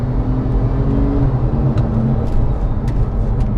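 Porsche 997 Gen 2 Carrera 4S with PDK gearbox after a downshift to third, a loud steady low engine drone with road rumble from inside the car, holding an even pitch throughout.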